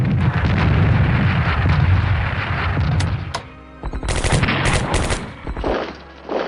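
Heavy artillery barrages and gunfire from the WW2 Pacific strategy game Strategic Command, a loud continuous rumble of blasts followed by several sharp separate bursts.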